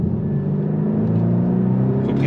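A 300 hp Volkswagen T-Roc accelerating, its engine giving a steady deep droning hum with rising pitch, heard loud and close from inside the car.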